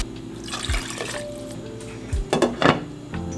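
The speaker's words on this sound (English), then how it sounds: "and now I'm gonna add 3 cups of water." Three cups of water are poured into a pot on the stove, giving splashing and pouring bursts with clinks of the cookware in a home kitchen, and no voices.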